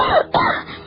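A man playing a father in a radio drama coughs twice in quick succession, a rough, throaty, close and loud hack with a brief pause between the two bursts.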